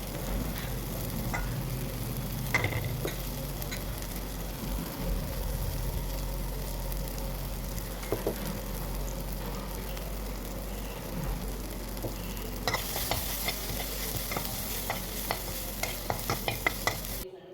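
Onion, tomato, salt, pepper and garam masala fry in a pan for a wheat pasta dish, a soft, steady sizzle broken by scattered stirring scrapes and taps, growing busier toward the end.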